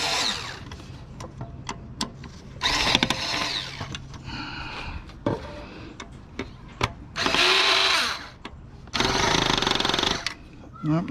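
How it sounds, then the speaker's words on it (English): A power drill whirs in several short, loud bursts separated by pauses, with clatter and handling noise between runs, while scrapping a Hitachi 53-inch CRT projector TV. "my drill will not get into that spot"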